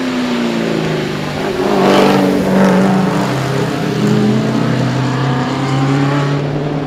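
A Ford Falcon Cobra race car engine roars and revs loudly as it passes, pitch shifting with gear changes, amid a dense, hissing wash of wet track noise in the rain.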